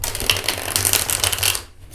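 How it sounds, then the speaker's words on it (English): A tarot card deck is shuffled in a steady run of dense papery riffling and flicking, close and fairly loud, alone without voices, before cutting off near the end. "And let me show you how it shuffles."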